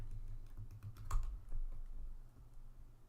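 Irregular clicking of keys on a computer keyboard, close and fairly quiet, with scattered keystrokes and a couple of louder taps, no talking.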